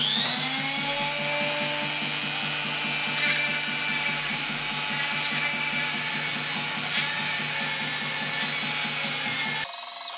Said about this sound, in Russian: Сверлим отверстие в плате.